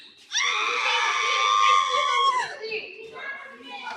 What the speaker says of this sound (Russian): Крик.